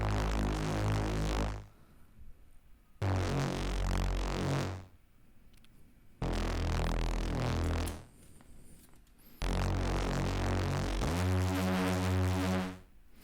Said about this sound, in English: I added this bass, and it gives this very nice low